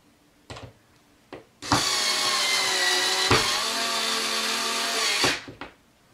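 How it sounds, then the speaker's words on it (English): A power drill drives a screw into a wall: a few short clicks and taps, then one loud, steady high whine lasting about three and a half seconds, up close and with no talk over it. "Alright, I'm going to screw this onto the wall now."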